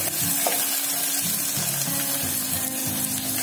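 Onions fry in mustard oil with a loud, continuous close-up sizzle, broken by clattering stirring sounds throughout; nobody speaks.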